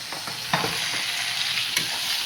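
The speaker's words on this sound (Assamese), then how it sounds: "মই পিঁয়াজটো ৰঙা কৰি ভাজি লৈছোঁ" Onion and tomato for a fish curry sizzle steadily in a hot pan while a utensil scrapes and stirs in short, irregular strokes.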